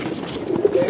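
A pigeon coos in a loft at a cattle farm on Karachi's Super Highway, a low, steady burbling call held up close over faint background noise.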